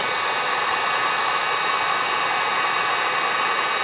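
A heat gun blows hot air onto heat shrink wrap, giving a loud, steady, close whooshing roar that holds unchanged throughout without any voices.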